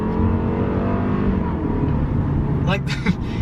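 A 2021 Lexus IS300 turbo engine drones steadily with a rising rev toward 6,000 rpm, loud and close, with a brief sharp burst near the end.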